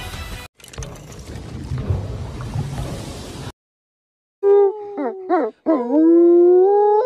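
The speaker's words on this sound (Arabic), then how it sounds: "الكلب الذئب" A wolfdog, a hybrid of a female dog and a male wolf, gives short rising yelps that swell into a long, loud, sustained howl, preceded by a stretch of rustling mechanical noise and a moment of silence.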